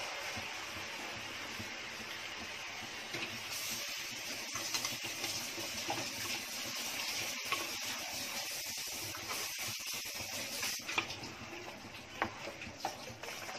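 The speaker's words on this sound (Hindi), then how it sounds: "मैं मिक्सी धो के उसमें पानी भी डाल रही हूँ।" Steady hissing rush of running water with scattered clinks and knocks as a mixer grinder jar is rinsed under a tap, continuous and moderately close.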